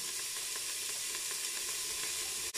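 Steady, close sizzle of bacon lardons frying in a Cookeo multicooker, a dense continuous hiss with faint stirring underneath and no talk.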